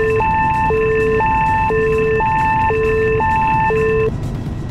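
Fire warning alarm test in a Tupolev TU-444 cockpit in X-Plane 11: a loud two-tone alarm alternating high and low in even steps, repeating steadily for about four seconds before cutting off abruptly.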